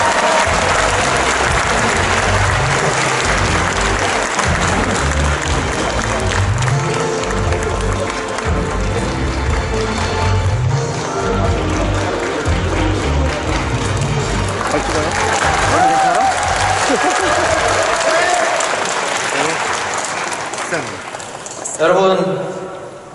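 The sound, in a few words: audience applause at a basic income expo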